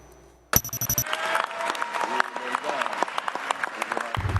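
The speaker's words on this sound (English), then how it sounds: "A warm applause greeted President-elect Bongbong Marcos and her wife Liza Araneta Marcos" A crowd applauds as President-elect Bongbong Marcos and his wife Liza Araneta Marcos are proclaimed at the Batasan, with steady clapping that starts abruptly after a short tone and continues for several seconds.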